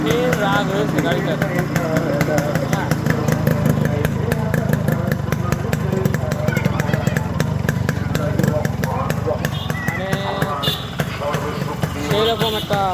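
A Yamaha RX 100 motorcycle in fresh condition runs steadily up close, its engine drone continuous throughout while someone talks over it.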